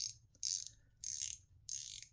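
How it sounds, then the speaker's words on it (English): A Moemton watch's low-profile rotating bezel gives three short bursts of thin, tinny ratcheting clicks, close up and quiet, with near silence between turns. "the bezel is actually quite low profile, which is why you get that tinny sound coming out of the bezel."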